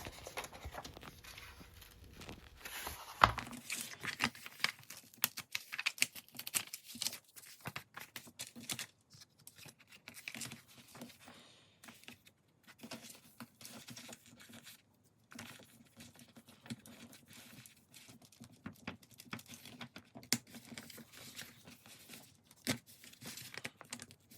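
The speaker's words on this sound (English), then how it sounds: "I'm going to have to separate the pages one by one eventually." Paper pages are slowly and carefully pulled apart from a Little Golden Book, giving soft, scattered crinkles, ticks and light tearing rustles, close and quiet, with no voices.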